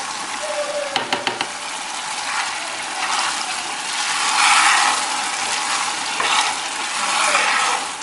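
Onion and tuna fry in a pan with a steady hiss and crackle, rising and falling as the food is stirred, with a few sharp clinks near the start.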